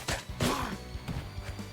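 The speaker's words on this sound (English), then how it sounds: "Explosion." Explosions in the video game Rivals of Aether 2 come as several sharp, punchy blasts and impacts in quick irregular succession, the loudest near the start, heard up close over game sound.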